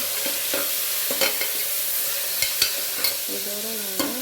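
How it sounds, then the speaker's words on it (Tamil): Onions sautéing in a pan for tomato kurma, a soft steady sizzle with occasional stirring scrapes and taps of a spoon against the pan, close and fairly quiet, with no voices. "இப்போ ஆனியன் போட்டாச்சு. நல்லா வதக்கலாம்."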